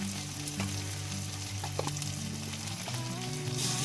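Turmeric and chili powder spices frying in a pan for Kashmiri aloo dum, a steady loud sizzle with occasional soft scrapes of stirring throughout, no talking.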